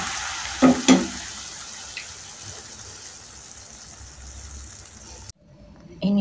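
Spicy bean sprouts sizzle as they are stir-fried in a pan, with two bursts of stirring clatter near the start, a steady hiss that fades, then a sudden cut and a brief louder noise at the end.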